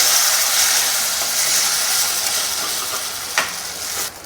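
Spiced masala in a kadai for methi dana shaak gives off a dense, steady sizzling hiss, with a sharp splash and surge of hissing as a little water is added and stirred in; close, no voices.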